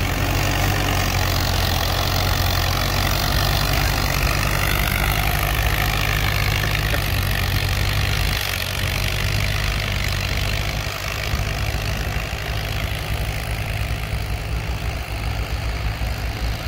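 An old D14 tractor on race tires runs steadily while pulling a plow on a farm, a loud, close, continuous low engine drone with a slight dip partway through.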